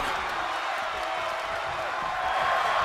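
Crowd noise from the WWE 2K24 wrestling video game forms a steady, dense arena roar that swells slightly toward the end, with a voice faintly present underneath.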